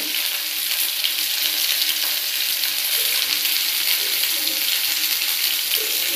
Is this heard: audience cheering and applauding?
no